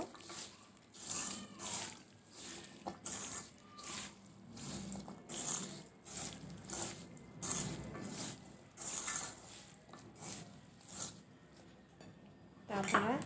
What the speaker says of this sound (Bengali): পেঁয়াজ কলি এবং পুঁই শাকের বীজ সব একসঙ্গে আবারও মেখে নিব